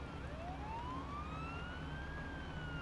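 A police siren wails steadily, its pitch sweeping up and back down over a constant low engine rumble.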